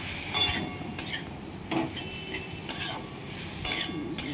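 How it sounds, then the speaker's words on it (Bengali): Ghatkol leaves with coconut fry under a soft sizzle while a spatula stirs them, knocking and scraping against the pan about five times in an uneven rhythm. "ভালোভাবে ভেজে নিতে হবে পুরো জিনিসটাকে"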